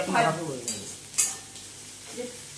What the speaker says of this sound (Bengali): পেঁয়াজটা একটু হালসে নেব, হালকা করে, পিঙ্ক পিঙ্কও হবে না